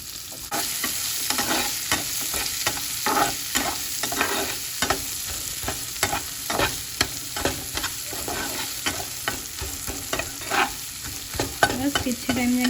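Sliced onions sizzle and fry in hot oil, with a steady crackling hiss and repeated scraping stirs of a spatula in the pan, close and continuous.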